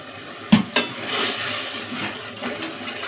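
A pot of ginger, garlic, turmeric, chili, coriander and cumin powders with salt is stirred: two sharp metal clinks of a spoon on the pot, followed by a steady, soft scraping and sizzling stir, close and alone.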